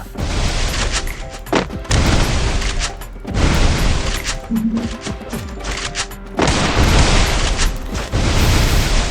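Gunfire rattles through a battle in the Free Fire video game, with loud, dense bursts of shots and booming impacts that come in several clusters, separated by brief lulls.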